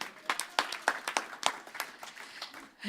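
Audience at a spiritual center service clapping for introduced band members, a patchy scattering of distinct handclaps with uneven rhythm, moderately close, rising and falling over a few seconds.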